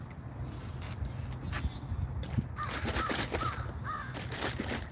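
Crows outdoors give several rough caws in quick succession over a steady hum of passing traffic, moderately distant and growing more frequent toward the end.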